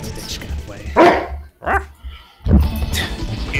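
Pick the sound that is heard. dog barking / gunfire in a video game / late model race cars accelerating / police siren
dog barking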